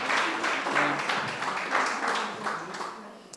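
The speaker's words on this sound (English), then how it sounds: "let's give them another round of applause" Audience applause at a talk on bean crop research and food security: steady crowd clapping filling the whole stretch at moderate level, with faint voices mixed underneath.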